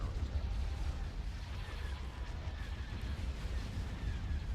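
Space battle weapons fire in Star Wars: Empire at War, Thrawn's Revenge mod, directed at a shield generator: a dense, continuous rumble of distant blasts and booming impacts with no clear gaps.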